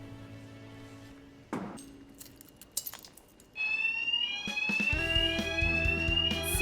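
A fire alarm sounds in a library, with a rising electronic tone entering partway through and then a loud sustained ringing alongside clinking and clattering.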